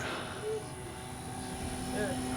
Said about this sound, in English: This is just a good, solid flying plane.